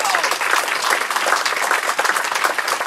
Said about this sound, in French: Vous pouvez vraiment l'applaudir.